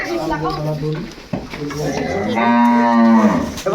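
Cattle bought for meat at a Cox's Bazar cattle market low in long, loud moos close by, one after another, while people talk over and between the calls.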